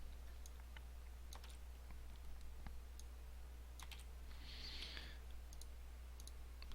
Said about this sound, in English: I'm going to go ahead and type this as